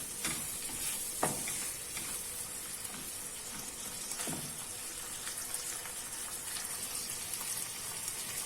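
Lean beef sautéing in butter for hünkar beğendi, a steady crackling sizzle throughout with occasional louder pops and spatters, close and continuous with no talking.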